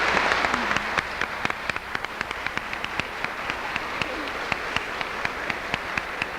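A room full of people applauds steadily, dense overlapping claps with a few sharper individual claps standing out, moderately loud throughout.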